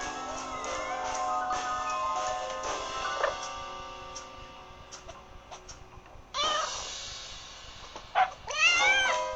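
A cartoon cat in the video game Little Kitty Big City meows in clear, tonal calls, with a soft purr and light ticking game effects underneath and several sharper meows toward the end.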